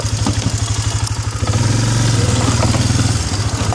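Arctic Cat 400 4x4 automatic ATV engine chugging off-trail over rough ground, a steady close, loud mid-pitched drone with rhythmic clatter that swells as the throttle opens partway through.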